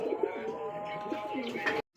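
A pair of Bombay pigeons coo in a low, rolling series of close, steady calls that run continuously until an abrupt cutoff near the end.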